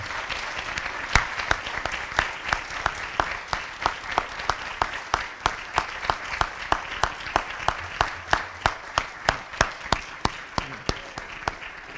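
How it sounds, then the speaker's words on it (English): Sustained audience applause at a school awards ceremony honouring students, with dense steady clapping and regularly spaced sharp claps standing out above the crowd throughout. "please rise and please give them a round of applause for their accomplishments"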